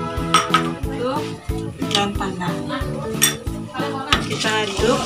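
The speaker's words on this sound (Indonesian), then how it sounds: "kita aduk hingga gula merah mencair." A spoon stirs and scrapes in a metal pot as palm sugar melts for kolak, with repeated clinks and knocks against the pot, close and fairly loud, while a voice talks over it.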